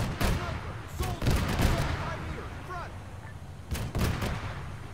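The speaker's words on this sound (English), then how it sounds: "Shoot that man in front" Gunfire in the Arma 3 video game, with several sharp shots and bursts spread through the scene, some close and loud, mixed with someone shouting over the combat.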